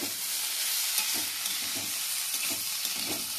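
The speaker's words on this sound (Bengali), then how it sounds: "এগুলো ভাজা ভাজা হয়ে গেছে" Cauliflower stems frying in a pan, giving a constant close sizzle with soft rhythmic stirring scrapes at regular intervals.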